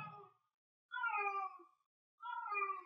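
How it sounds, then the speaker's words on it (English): A house cat meows in the background, three drawn-out, wavering cries separated by short silences, fairly faint and heard alone without talk. "That is my cat in the background."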